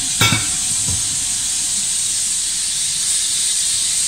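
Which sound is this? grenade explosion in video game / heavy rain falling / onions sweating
onions sweating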